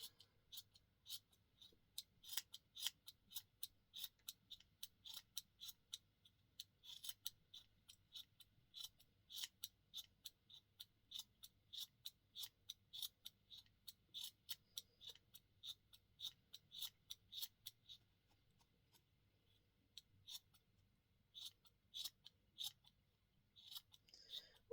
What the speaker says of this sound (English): Also helps if you have really sharp scissors,